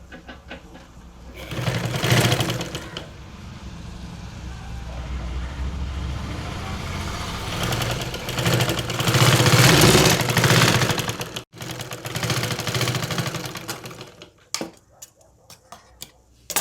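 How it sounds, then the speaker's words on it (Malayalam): A sewing machine runs in long steady stretches while stitching a fabric seam on an umbrella skirt, a continuous whirring hum that swells and pauses, then stops near the end. "ഞാനിപ്പോൾ ഇവിടെ ജസ്റ്റ് ഒരു അടി അടിക്കുകയാണ്."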